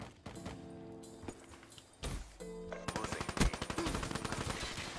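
Weevil gun firing in a Call of Duty-style shooter, rapid bursts of automatic gunfire with sharp rattling shots, fairly faint, broken by short pauses and other game sounds.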